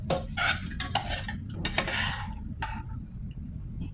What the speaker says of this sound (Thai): เดี๋ยวมาตักเส้นใส่กันเลยดีกว่า เส้นก๋วยจับ